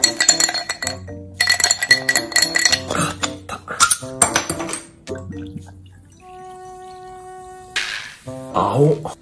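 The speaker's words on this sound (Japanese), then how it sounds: "今日はね、氷も用意したんで、まあ、こいつをね、バチッと入れていきながら飲みたいと思います。" Ice cubes drop one after another into a glass meant for a blue blueberry-flavoured liquor, making sharp close clinks and rattles in irregular bursts, with a brief hollow ringing tone partway through.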